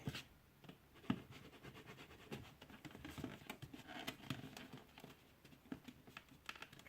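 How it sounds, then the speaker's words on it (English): Dr!ft Gymkhana edition packaging being opened gently by hand, a soft, faint patter of small scratches, taps and crinkles in irregular bursts, close up and quiet with no talking. "I have to open this up very gently because I also want to save the packaging"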